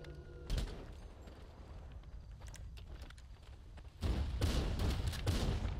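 Gunfire in an online shooter video game, bursts of shots with a sharp crack early on and a denser, louder volley in the last two seconds, over a steady game background.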